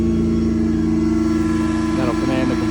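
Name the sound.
truck-mounted air compressor cutting on, Ford F-550 service truck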